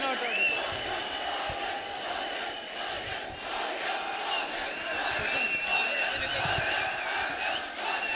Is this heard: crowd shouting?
yes